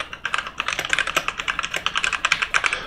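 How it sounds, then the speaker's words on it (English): A long passphrase is typed on a computer keyboard, a close, steady run of crisp key clicks at a quick, even pace, with no talking. "especially when I type on my password"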